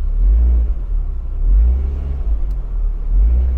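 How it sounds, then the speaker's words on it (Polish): An Abarth 595 Turismo's small turbocharged engine swells and eases in low, rumbling waves under light throttle, a close, throaty drone rising and falling a few times. "Strasznie lubię to, jak Abarcik brzmi przy takim lekkim dodawaniu gazu."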